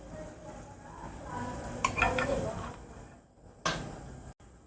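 Fried cashews are moved into a small bowl with clinks and scrapes of a spoon against metal and dishware, close by, ending in a sharper knock, over faint kitchen background noise.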